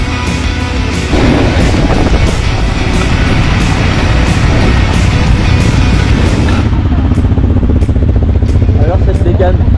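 A loud, close race car engine at the Tardienta Monegros circuit roars continuously, rumbling and droning with a slight shift in tone partway through.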